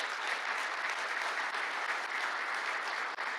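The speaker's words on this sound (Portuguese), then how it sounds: "aplauda ao Senhor em nome de Jesus." A church congregation at a men's conference applauds. The steady, dense clapping of a crowd fills the room without a break.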